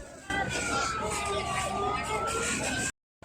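A fire engine siren responding to a fire in Berau, East Kalimantan, wails steadily for about three seconds over background noise before cutting out abruptly.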